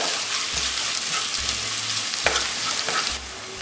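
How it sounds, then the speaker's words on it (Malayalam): Onions sauté in a pan for Guntur mutton fry, a steady close sizzle of frying with occasional stirring scrapes and low thumps throughout, no talking. "ഇപ്പോൾ സവോള നല്ലതായിട്ട് വഴണ്ട് വന്നിട്ടുണ്ട്"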